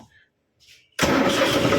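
A tractor engine starts abruptly after near silence and settles straight into a loud, steady running rumble that fills the rest of the clip, close by.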